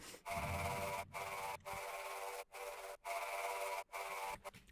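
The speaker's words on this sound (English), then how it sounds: "I've taken that choir, taken all the low end out. I've run it through distortion with some sort of fuzz" A harsh, distorted choir sample, low end removed and run through fuzz distortion, with a thin tone, chopped into pulsing bursts separated by brief silences in a neurofunk track.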